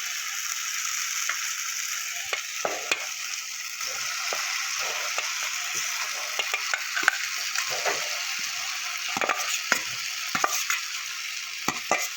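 Potatoes and cauliflower fry in hot spiced oil for a mixed winter vegetable tarkari, a constant close sizzle broken by repeated scraping and clattering stirs of the spatula against the pan, without any talking.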